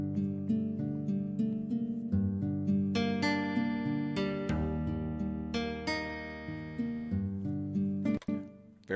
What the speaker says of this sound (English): stringed instrument kind of a sound that was the basis of this